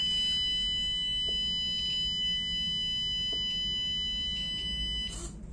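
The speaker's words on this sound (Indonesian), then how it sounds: "ketika terdeteksi api, maka buzzer akan berbunyi dan juga servo akan bergerak." A steady high-pitched alarm tone from an Arduino fire detector buzzer sounds continuously, with a few faint clicks and a brief burst of noise near the end.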